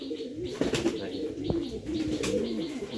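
A pair of red Sirazi pigeons coos nearby in low, throaty, repeated calls, with some chirping and faint background voices.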